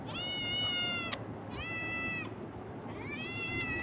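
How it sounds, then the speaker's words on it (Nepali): A cat meows three times in drawn-out, evenly spaced calls, close and clear over a low background hum, with a small click between the first two. "यहाँ बिरालो छ के जहिले पनि आउँछ"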